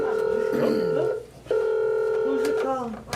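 A telephone on speakerphone dials out in a meeting room. Two long, loud steady tones are separated by a short gap, with a voice talking over them.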